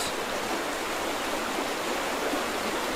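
Water flowing steadily in the video game The Vanishing of Ethan Carter, a constant close rushing hiss like a stream or small waterfall, with no pauses and no other sounds.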